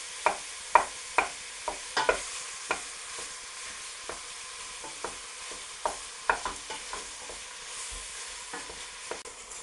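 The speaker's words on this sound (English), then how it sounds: "the lamb's browning nicely now" Lamb browning in a pan over high gas heat, a soft steady sizzle with irregular sharp scraping and tapping of a utensil breaking up the meat, no voices.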